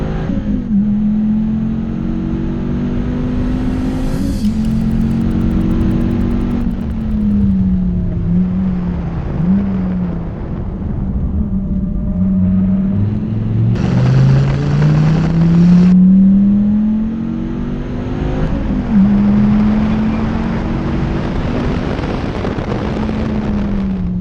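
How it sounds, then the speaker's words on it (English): Dodge Viper ACR engine revving up and down repeatedly, loud and close, with rising and falling pitch sweeps and wind buffeting, no talk. "See, Dean, that's what a manly car sounds like"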